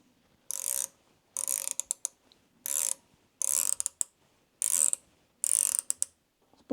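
Sewing machine stitching a zipper with red thread, running in short bursts of about a second each with brief pauses between, a close rattling mechanical whir repeated six times.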